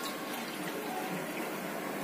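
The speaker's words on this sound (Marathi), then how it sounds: "दोन तांबे पाणी घालणार आहोत" Water poured into a cooking pot holding chopped radish greens in a home kitchen, a steady close splashing and rushing that runs unbroken for about two seconds with no voices.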